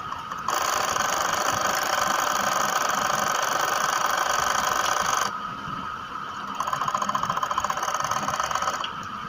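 An overlock machine set up for fine pico stitching runs loud and close with a steady mechanical whir and rapid rattle, stops briefly, then starts again with a faster ticking rhythm, and no one speaks.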